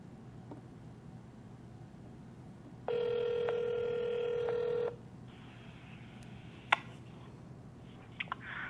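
An outgoing telephone call rings once in a single steady electronic ring lasting about two seconds, followed by faint clicks and line noise, with no voices.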